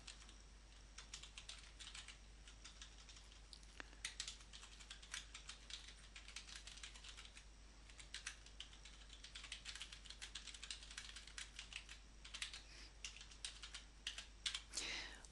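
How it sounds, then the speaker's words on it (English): Typing on a computer keyboard to enter text into a poster app, heard as a quiet, quick, irregular run of light key clicks under a low steady hum. "So I'll type my font in now."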